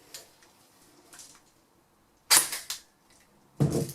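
An MP5-style air gun recovered from a bunker, battery-powered with a magazine loaded, fires sharp cracking shots: two close bursts near the middle and another near the end, after faint ticking, with no talk.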